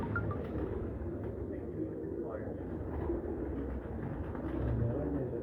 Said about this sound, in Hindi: ये देखें दोस्तों, एक और सलारा कबूतर, बड़ा सलारा कबूतर है